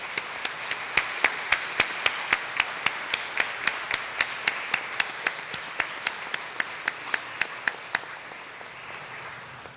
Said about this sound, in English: celebration and an applause.